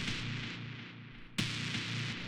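A gritty, heavily compressed synth brass tone through OTT multiband compression sustains quietly and is retriggered once partway through.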